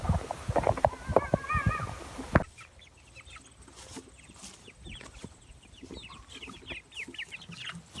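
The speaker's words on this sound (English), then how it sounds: "And now it's time to take care of the meat chickens." Meat chickens on pasture cluck and chatter at moderate distance, many overlapping short calls; a voice is heard briefly at the start before the birds carry on.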